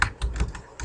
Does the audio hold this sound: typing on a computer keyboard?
yes